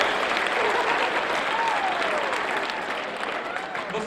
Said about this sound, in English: Give yourselves a round of applause then for being a good audience.